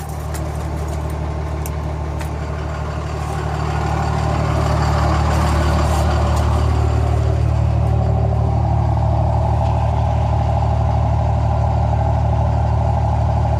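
A Cummins diesel truck engine on a 12-valve tune idles close by with a deep, steady rumble. The idle firms up and grows slightly louder partway through, with no talking over it.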